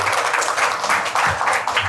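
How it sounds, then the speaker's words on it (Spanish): Audience applause at an Ecuadorian book presentation, loud, close clapping from a group of listeners heard alone and continuing steadily throughout. "Un aplauso nuevamente para ella por su aporte."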